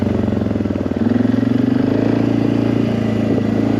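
A Suzuki KingQuad ATV engine revs up and holds at a steady, loud, high pitch, its throbbing exhaust note rising slightly after a brief dip, heard close and alone.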